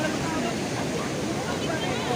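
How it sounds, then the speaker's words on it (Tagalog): Heavy rain that has poured since the night before makes a dense, steady roar, close and unbroken throughout, with faint voice-like murmur blended into the wash. "Hindi pa tumitigil ng ulan, magmula po kagabi."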